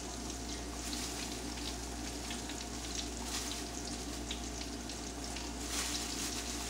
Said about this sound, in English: I would love to get these all in one batch, but I don't want to over stuff the pan